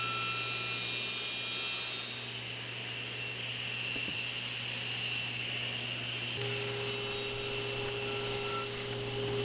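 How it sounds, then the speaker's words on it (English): A table saw cuts a chamfer along wooden stock for a wine cabinet, giving a loud, continuous whining drone that holds steady and then shifts slightly in tone partway through. "The table saw is a great tool for getting this done"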